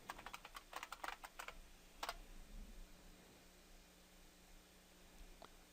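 Keys on a computer keyboard are tapped in a quick burst to enter a password at a login screen, faint close clicks followed by a lone later tap over quiet background hiss.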